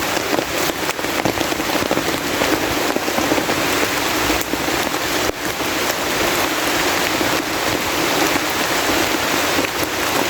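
Heavy rain pours steadily onto surfaces in the rural countryside, a dense, loud, unbroken hiss with no voices.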